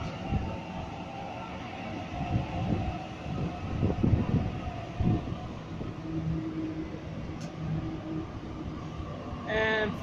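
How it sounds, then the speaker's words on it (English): A Sydney Waratah electric train rolls into a city station, a rumbling, rising and fading rail noise with wheel clatter and a faint hum, ending in short high electronic tones. "right behind me is a North Sydney service arriving, Waratahs"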